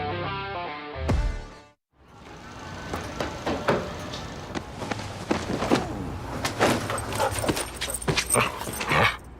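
A dog in a bank advertisement: after a short musical intro and a brief gap, the dog whimpers and gives scattered yips and barks, loud and close, over steady background noise and clatter.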